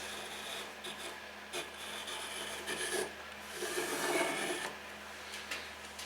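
Dividers scribe a line across plywood, a soft, close scratching rub running in a few uneven strokes, faint and with no talking.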